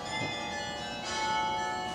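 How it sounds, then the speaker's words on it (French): Carillon bells ring out with sustained, shimmering tones that overlap and linger, heard at a moderate distance outdoors with no talking over them. "C'est un carillon, ça."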